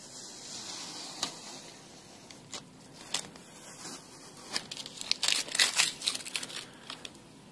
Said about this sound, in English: Don't get too cocky and peel the tape off too fast.